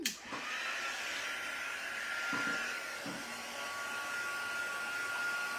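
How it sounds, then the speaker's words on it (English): Heat gun blowing steadily over a handmade craft tag, a continuous close airy roar with a high whine held throughout, briefly dipping at the start and otherwise alone with no talk. "Now, once again, I need to give that a quick dry, so I'll hit it with my heat gun."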